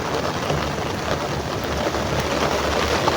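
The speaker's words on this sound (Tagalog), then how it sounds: "Biglang bumuhos ang ulan guys." Heavy rain pours down steadily outdoors, a dense continuous hiss that stays loud and even throughout with no voices.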